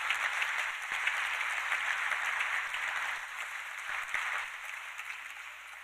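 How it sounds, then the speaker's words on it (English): Applause fills the hall at the MN Cup awards ceremony, a steady, moderately loud round of clapping from a large audience that tapers slightly toward the end. "So please, again, a big round of applause to both of them."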